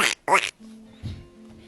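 The Geico Duck from an insurance commercial lets out a short, loud nasal quack, followed by a faint, lower squawk over a steady background hum.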